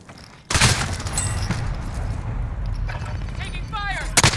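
Video game gunfire, one loud close shot followed by a sustained barrage of echoing blasts and impacts, ending in a couple of sharp sharp reports, with a faint voice in the mix.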